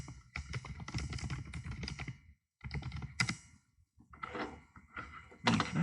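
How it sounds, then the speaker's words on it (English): Rapid typing on a computer keyboard in bursts of dense clicking with brief pauses between, close and moderately loud, with a few heavier key thunks. "Man, can I type or what?"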